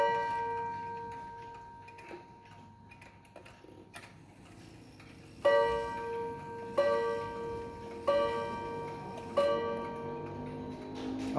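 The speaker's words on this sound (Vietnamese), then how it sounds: "Bây giờ mình test tiếng chuông này." Senco Japanese mechanical pendulum clock striking its brass gongs four times, each ringing strike decaying slowly over steady ticking, close and clear.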